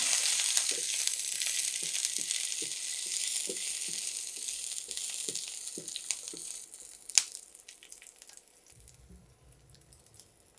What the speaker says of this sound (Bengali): আর রসুনটা একটু আগে ভাজবো।